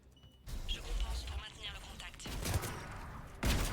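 Gunfire and bullets in a Mass Effect 3 battle, with dense bursts of shots and impacts crackling over a loud rumbling mix, the firing rising in sharp, close volleys.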